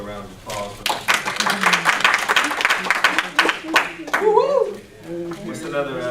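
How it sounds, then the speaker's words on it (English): A small Bible study group gives a round of applause, with uneven, close claps of a few people filling several seconds before tapering off, and a voice briefly heard near the end. "Give my brother a round of applause."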